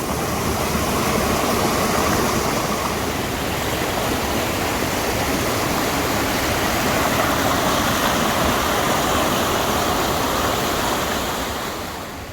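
Ritson's Force, a small waterfall in the Wasdale Valley of the Lake District, roars after heavy rain as a dense, constant rush of falling water, loud and close from start to finish with no voices.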